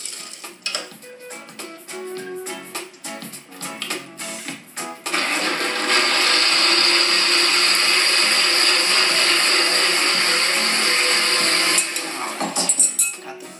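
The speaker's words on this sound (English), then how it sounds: "I like to use my blender because it really liquefies the sauce" A blender liquefies a sauce of roasted peppers, wine and onions, with clatter and scraping at first, then a loud steady whir for several seconds before it winds down amid more knocks.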